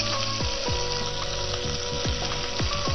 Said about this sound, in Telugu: కరివేపాకు వేస్తున్నాను.